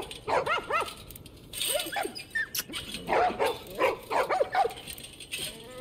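Several dogs barking and yipping in The Last of Us Part 1, a series of sharp close barks in uneven bursts with short gaps between them.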